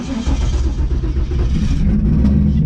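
Car engine running loud and close for the whole stretch, a steady rough mid-range roar with swells that suggest revving after a start, no voices over it.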